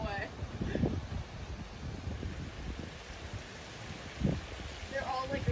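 Low, rumbling gusts of strong wind buffeting the microphone during a storm at sailing races in Ocean View, swelling and easing throughout, with faint voices talking underneath.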